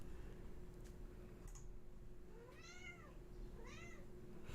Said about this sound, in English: we've got the singing cats too